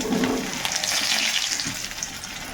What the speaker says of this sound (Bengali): এই তেলের মধ্যে আমি কিন্তু সর্বপ্রথমে কচুটা দিয়ে দেব